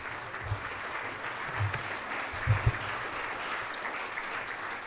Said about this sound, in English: Come on, give Jim a really good round of applause.